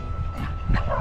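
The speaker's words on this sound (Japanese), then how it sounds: "あ、吠えた。" A dog gives a quick bark outdoors during a swim outing with a Great Pyrenees and a Golden Retriever, a short burst over a noisy outdoor background.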